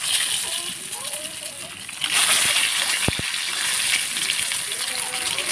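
Eggs fry in hot oil in a pan, a steady close sizzle and crackle that swells louder partway through, with a couple of sharp utensil taps and a voice speaking over it.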